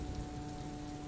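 Steady rain falls continuously, a dense even patter with no pauses, moderately loud and close, with a faint low rumble beneath.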